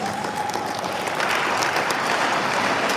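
Sustained applause fills a hall at a session of the Akwa Ibom traditional rulers council as a visiting guest rises, with dense, steady clapping from a large gathering and a faint murmur of voices beneath.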